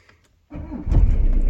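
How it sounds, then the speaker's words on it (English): A car engine cranks and catches after a brief silence, swelling into a loud, steady idle close by; the car is a shop car with a troublesome gearbox and clutch. "So the car starts."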